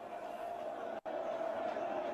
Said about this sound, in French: La foule est de plus en plus compacte.